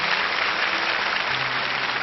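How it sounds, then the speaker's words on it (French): Steady, dense applause from a TV studio audience cheering three game-show candidates, loud and continuous with no speech over it. "On applaudit très fort les trois candidats"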